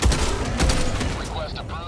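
Rapid burst of gunfire in Helldivers 2, loud and close, a dense rattling volley with booming impacts that tails off into scattered game sounds, with voices faintly underneath.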